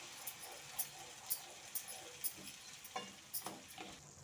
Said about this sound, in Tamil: அதையும் நல்லா கலந்து விட்டுக்கலாம்.